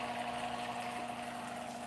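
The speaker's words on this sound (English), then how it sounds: "we're just very slowly going to pour this butter in while it is bubbling, boiling hot" Melted butter poured slowly into bubbling, boiling-hot egg yolk for hollandaise, giving a steady close liquid hiss and gurgle beneath a constant appliance hum.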